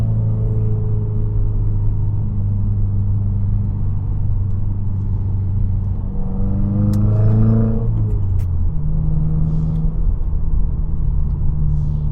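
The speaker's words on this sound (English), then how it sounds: "Terrible downshift" A 2023 Subaru WRX engine drones steadily while driving on a snowy day, then a quick rev blip and shift in pitch mark a rough downshift before the engine settles into a lower, even rumble.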